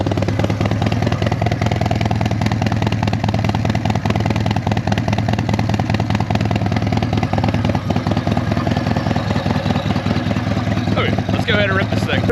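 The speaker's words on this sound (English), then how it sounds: "It's warmed up a little bit already, so that'll let you hear that idle a little bit better." A Harley-Davidson Softail Sport Glide with a Stage II upgrade idles steadily after warming up, a continuous low engine rumble that runs throughout with faint clatter and some talk over it.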